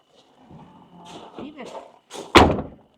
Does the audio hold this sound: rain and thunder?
no